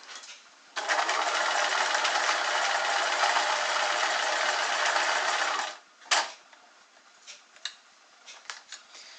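A sewing machine stitches a hem on stretch fabric with a steady, loud, fast whirring run for about five seconds. It then stops, leaving a few light clicks and handling taps.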